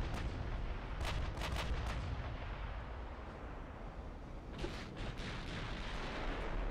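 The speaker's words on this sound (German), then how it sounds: "Noch eine Salve raus." Naval artillery salvos from battleship guns in Ultimate Admiral: Dreadnoughts, a continuous rumbling barrage with clusters of sharp booming blasts early on and again near the end; no speech.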